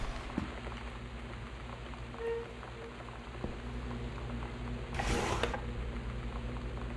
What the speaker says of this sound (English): That refrigerator's really loud.